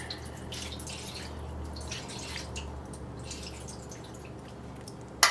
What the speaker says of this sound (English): What we are going to add to the pan is some juice.